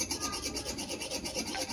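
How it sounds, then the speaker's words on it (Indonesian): A metal file rasps rust off the shaft of a wall fan, a steady run of close, scraping strokes in a rhythmic back-and-forth with no talk. "ada baiknya kita bersihin dulu karat di asnya menggunakan kikir seperti ini atau amplas"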